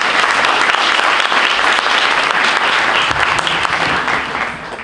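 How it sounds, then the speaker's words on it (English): A panelist at a Ramadan community program is greeted with loud, dense audience applause that holds steady for several seconds before tapering off at the end. "Brother Adil, with a round of applause, please"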